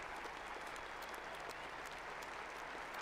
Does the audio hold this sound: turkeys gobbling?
no